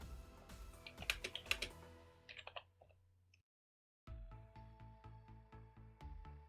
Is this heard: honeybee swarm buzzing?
no